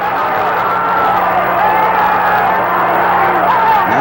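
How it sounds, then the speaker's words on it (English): Excited crowd at the Muhammad Ali versus Rudi Lubbers boxing fight, a constant loud roar of many voices with rising shouts and whoops, and a steady hum underneath. "the crowd getting excited"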